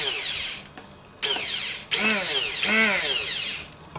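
A Zigmund & Shtain BH-345M immersion blender, rated at 1500 W, runs its motor in bursts with a high, drill-like whine that rises and falls in pitch as it starts and stops, loud and close.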